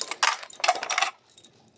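Motorcycle ignition keys for an electric starter jangle up close in two quick bright metallic bursts, followed by a fainter single clink.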